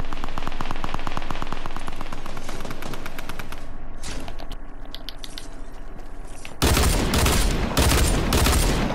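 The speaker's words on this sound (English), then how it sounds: "Oh, this is the double cannon thing." Rapid bursts of double cannon fire in the video game Fortnite, a fast, dense rhythmic barrage that runs throughout, then turns harsher and louder in the final seconds, with no talk over it.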